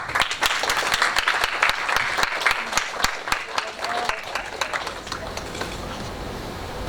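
Audience applause at a tech talk on artificial intelligence for business, a dense steady roar of many hands clapping continuously for the whole stretch, fairly loud and close, with no talking over it.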